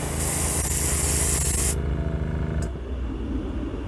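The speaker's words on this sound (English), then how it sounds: "we're putting on the transparent black now. Putting on the last coat." Transparent black spray paint hisses from an aerosol can onto a Hot Wheels bus in one loud, steady burst that cuts off abruptly, followed by a brief faint puff and low background rumble.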